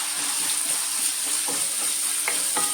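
Sliced onion and green chillies sauté in a hot pan with a steady sizzle, with a few light scrapes and stirs of the spatula over the top.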